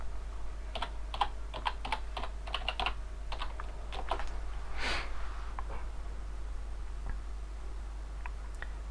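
Irregular bursts of computer keyboard typing, quick clustered keystrokes with short pauses, close and fairly quiet over a low steady hum, no voices.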